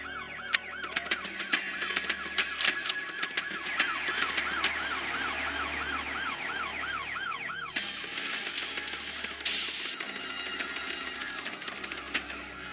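A police siren wails continuously, cycling through rising and falling tones over a low engine hum, fairly close.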